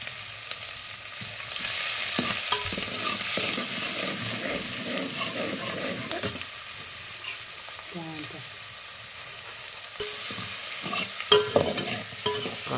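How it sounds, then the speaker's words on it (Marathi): Finely chopped onion frying in oil for Kolhapuri chicken cooked on a wood-fire chulha, a steady close sizzle with occasional stirring scrapes and clinks throughout. "कांदा असा खरपूस भाजून घ्यायचा।"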